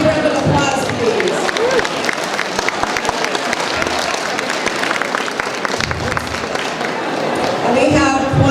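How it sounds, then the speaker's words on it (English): A banquet-hall crowd at an annual awards and anniversaries soiree claps in a dense, steady wash of applause, with scattered cheers and voices mixed in throughout. "Let's give them one more big round of applause, please."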